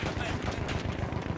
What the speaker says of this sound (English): There's somebody just sniping right up on us